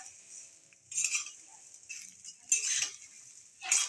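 Puffed rice being tossed with chopped coriander in a pan, three or four short bursts of dry rustling and light scraping of a spoon against metal, close and fairly quiet.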